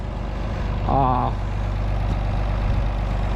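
A tractor engine runs steadily during tillage work, producing a constant low rumble throughout. A brief high tonal squeal cuts in early on before the engine continues alone.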